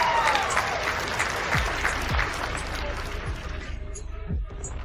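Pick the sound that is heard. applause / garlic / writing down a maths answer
applause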